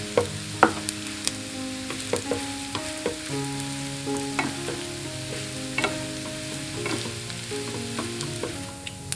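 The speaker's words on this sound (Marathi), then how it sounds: "हे आता तुपामध्ये आपण खमंग भाजून घेणार आहोत" Ground sprouted wheat roasts in ghee in a pan, giving a steady soft sizzle with repeated scraping and stirring clicks from a spoon, close and alone without talk.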